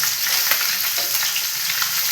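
Pabda fish, the second batch, frying in oil in a pan for a mustard-poppy curry, giving a steady, dense, close hiss of sizzling with no talk.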